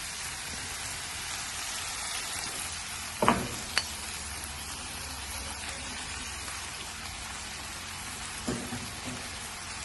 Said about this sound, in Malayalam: സവാള ഒന്ന് ചെറുതായി വാടിക്കഴിയുമ്പോൾ അതിലേക്ക് ക്യാപ്സിക്കം ആഡ് ചെയ്ത് കൊടുക്കുക